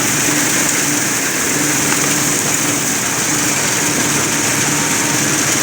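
A tractor engine drones steadily at close range while mowing weeds in a grain field, a constant rough mechanical hum with no pauses and no voices.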